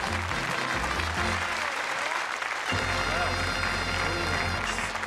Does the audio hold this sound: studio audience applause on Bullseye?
yes